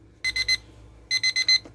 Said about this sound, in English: our timer is up for 10 minutes